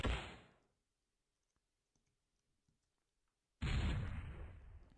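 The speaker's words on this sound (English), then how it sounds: "that was probably the most efficient grenade I've ever thrown" Grenade explosion in the video game Endless War 3: a loud blast fades away over about a second, then near silence with faint ticks, before a second heavy explosion bursts in and slowly rumbles out.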